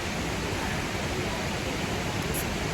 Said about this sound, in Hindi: पानी की आवाज़ तो आपको भी आ रही होगी, तो बगल में झरना है।